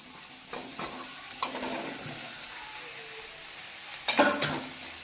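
Curry leaves, coriander and mint sizzle gently in a pan with mashed boiled potato for bonda filling. Low frying hiss runs throughout, broken by a few stirring scrapes and a louder clatter of spoon against pan near the end.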